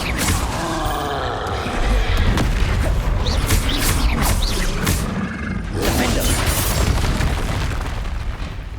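In Hogwarts Legacy, a Confringo fire spell bursts into loud, booming explosions, a continuous barrage of heavy blasts and crashing impacts rumbling for several seconds.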